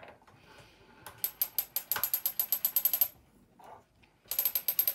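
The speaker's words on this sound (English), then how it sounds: "So what I like to do is you're going to wind this warp forward." A weaving loom's ratchet clicks as the warp is wound forward, two loud bursts of rapid, evenly spaced mechanical clicks separated by a quiet pause, with no talk.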